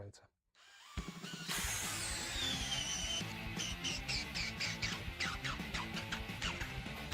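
A DeWalt DCD 791 cordless brushless drill bores a hole, starting after a brief pause with a steady loud whir that pulses unevenly as the bit bites, close by with no talk.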